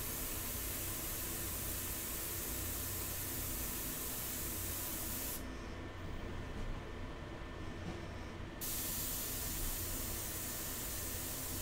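An airbrush sprays India ink onto paper in a steady, even hiss that runs without break, its airy top briefly dulling midway before returning. No one speaks.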